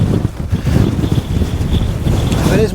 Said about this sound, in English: If it is windy like this,